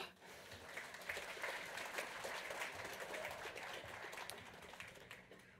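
An audience at a municipal stage event applauds with dense, continuous clapping for several seconds, moderately distant and steady before tapering slightly.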